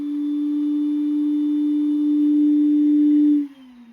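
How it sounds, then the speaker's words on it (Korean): A steady, loud tonal whine from the small cooling fan of a hot air rework gun holds for several seconds, then drops in pitch as it winds down. "팬 소리가 너무 큽니다."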